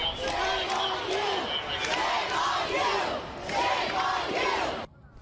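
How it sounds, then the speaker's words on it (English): A large street protest crowd screams and chants in loud, surging waves of overlapping voices below a campus building during arrests, sustained throughout before cutting off abruptly near the end. "A huge crowd screaming and chanting from the street below as officers one by one climbed inside."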